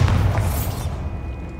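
A deep boom from the Bombarda blasting spell in Hogwarts Legacy, a loud low-heavy burst that fades out quickly.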